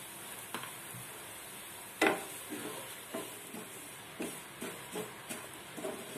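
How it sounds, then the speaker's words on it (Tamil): Semolina and cashews roasting in ghee in a pan for rava kesari, a faint hissing fry with a sharp clank and a regular series of soft stirring scrapes, no voices. "இது கூட இந்த ரவையும் போட்டு நம்ம வறுத்துக்கலாம்."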